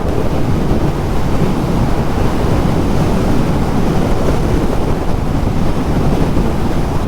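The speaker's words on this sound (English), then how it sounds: "Oh my god, that fucking wind." Strong wind roars loud and unbroken against the microphone while riding a 2022 Triumph Speed Twin motorcycle on the road, a dense steady rush that buries any engine note.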